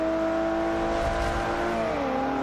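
Tuned BMW 1 Series M racing in Forza 5, a steady engine drone with a clear tone that drops in pitch as it shifts, tire and road noise underneath, no talking.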